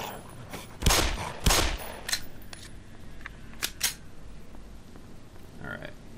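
Gunfire in the video game Black Mesa: two loud, close shots near the start, then a few lighter, sharper shots and clicks scattered through the rest of the clip, with no talking.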